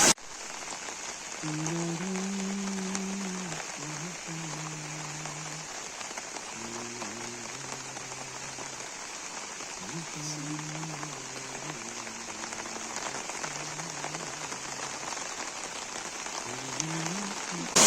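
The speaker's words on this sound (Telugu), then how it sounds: "సో ఇది శ్రీ అమరలింగేశ్వర స్వామి వాటర్ ఫాల్స్" A waterfall at Sri Amara Lingeshwara Swamy Kona near Tirupati pours in a steady, dense rush of water, like heavy rain on rock. A faint wavering tonal sound runs underneath for the whole stretch.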